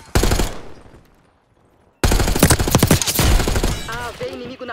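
Rapid automatic gunfire in the video game Call of Duty Black Ops 6, aimed at an AAV: a loud burst, a short silence, then a longer sustained volley with a voice talking near the end.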